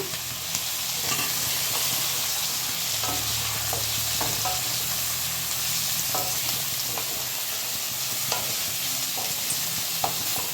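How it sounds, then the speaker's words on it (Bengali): Aubergine pieces go into a pan of frying potatoes, green chilli and onion. A loud, close, continuous sizzle of oil carries frequent stirring scrapes and clacks, with no talking. "আমি এবার বেগুনগুলো দিয়ে দিলাম।"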